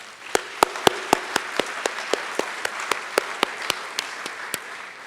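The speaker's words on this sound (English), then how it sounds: "So let's give the trustees a round of applause." Audience applause for a school district's trustees at an opening session, heard as sparse, evenly spaced claps that stay fairly steady for about five seconds with no voices over them.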